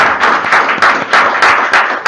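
A church congregation claps together in a steady, dense rhythm, the sharp overlapping claps loud and close, with no voices over them.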